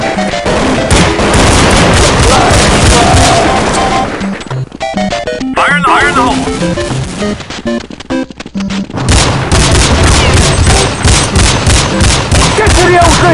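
Gameplay from a Counter-Strike 1.6 zombie escape mod server is dense and loud, with rapid bursts of gunfire and heavy grenade blasts. A brief quieter stretch midway carries scattered shots before the barrage resumes.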